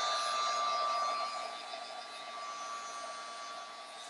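Craft heat tool drying a mixed media tag, a steady close whooshing blower hum with a thin tonal whine, loud at first then slightly softer as it continues alone.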